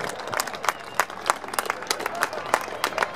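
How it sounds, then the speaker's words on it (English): A crowd at the Bristol Balloon Fiesta 2012 welcomes RAF parachutists landing with scattered outdoor clapping: distinct, uneven claps popping out over a low background murmur, briefly and at moderate distance. "Come on, all cheer!"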